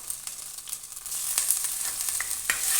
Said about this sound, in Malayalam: അതിലേക്ക് ഒരു സ്പൂൺ ഇഞ്ചി വെളുത്തുള്ളി പേസ്റ്റ് ഇട്ട് കൊടുക്കുക.